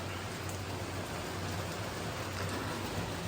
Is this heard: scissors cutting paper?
no